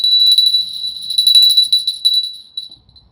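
Small bells ring out in a bright, rapid cascade of overlapping peals, clear and close, gradually thinning and fading to a few last strikes at the end of a meeting.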